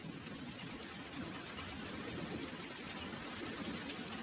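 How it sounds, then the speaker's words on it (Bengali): Heavy rain pours down steadily as a cartoon sound effect, a dense constant hiss of drops, faint and even throughout with no other sounds. "আর তখনই আচমকা প্রচুর বৃষ্টি শুরু হয়।"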